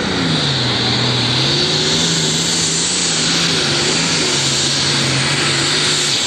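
A turbocharged super stock tractor roars at a tractor pull, its engine a loud, sustained, high-pitched whine and drone. The pitch wavers slightly while the driver nurses the throttle and the turbo spools up, with no voices.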